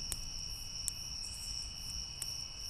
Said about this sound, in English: Crickets are so loud.